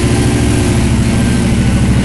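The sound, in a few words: drag race car engine idling high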